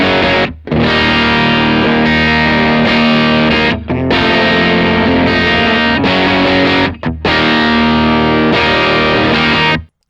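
Electric guitar through a Matchless amp model on the Patchless Rock preset, loud crunchy distorted chords ringing in sustained strums with a couple of brief breaks, close and full.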